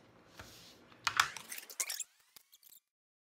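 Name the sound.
scissors cutting ribbon into strips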